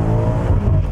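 A 2020 BMW M8 Convertible's engine and exhaust roar loudly and close for under a second, a dense throaty rumble with no voices.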